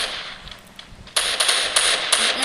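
MP40 submachine gun firing in a video game: loud rapid bursts of automatic fire erupt after a quieter stretch and continue with sharp repeated cracks to the end, with no talking.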